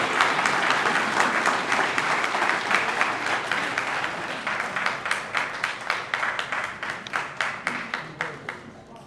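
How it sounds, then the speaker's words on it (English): An audience at the 2025 California Wrestling Hall of Fame Lifetime Service Awards applauds an award recipient, with dense, sustained clapping that gradually thins into scattered individual claps. "One more round of applause for Dr."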